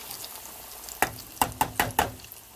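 A potato ball drops into hot frying oil, setting off a run of sharp spattering pops and crackles, about five close bursts over a quiet background.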